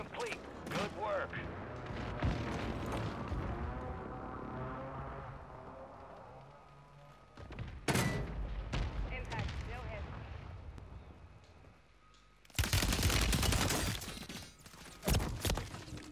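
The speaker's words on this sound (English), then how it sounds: "Push that airstrike near your location." Airstrike explosions and gunfire in the Call of Duty Warzone video game, loud broadband bursts and blasts arriving in several separate clusters, with a big sustained blast near the end, all mixed under ongoing game voice chatter and talk.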